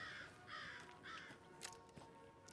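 Crows caw in the video game Alan Wake 2, giving a few harsh, repeated calls at moderate distance over a quiet ambient game background.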